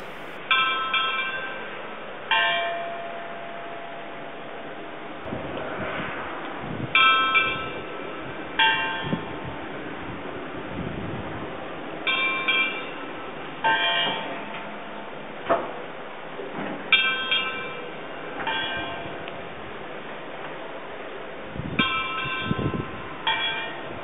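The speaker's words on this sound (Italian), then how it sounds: "sentire i rintocchi dell'orologio della chiesa ogni quarto d'ora, di giorno e di notte" Bells of a church clock tower in Fiumedinisi chime at irregular intervals, with bright ringing strikes mixed among clicks, knocks and mechanical clatter of the clockwork, heard fairly close but at moderate volume.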